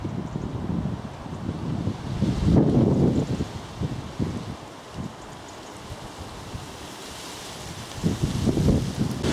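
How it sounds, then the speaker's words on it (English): Wind gusting across the microphone on a countryside walk between Guildford and Farnham, a continuous rumbling buffet that swells and eases in waves, loud and close, with no voices. "with the wind picking up"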